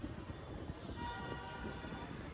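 A train rumbles past with a low, continuous roar and faint high tonal whine, heard from a short distance.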